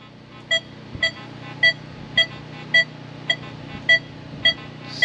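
A metal detector over a quarter gives a series of short, evenly spaced high beeps, about one every half second, over a low steady hum.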